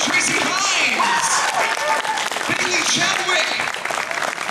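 Audience applause at the Anime Expo 2011 convention, a dense crowd clapping and cheering continuously throughout, fairly loud, with a voice speaking over it.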